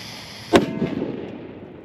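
XPN explosive detonates in a single sharp, loud blast that hits at once and then rolls off into a fading rumble over the following second, with no talking.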